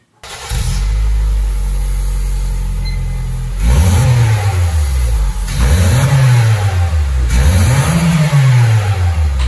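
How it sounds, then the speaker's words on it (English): A 2007 Honda Fit with its stock exhaust starts up and settles into a steady idle, then revs sharply three times, each rise falling back toward idle. The sound is close and loud, with no talk. "What you've just heard is the sound of a stock exhaust system on a 2007 Honda Fit."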